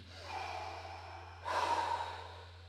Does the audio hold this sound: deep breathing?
yes